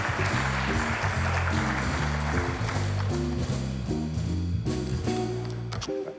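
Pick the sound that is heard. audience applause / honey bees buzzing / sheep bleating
audience applause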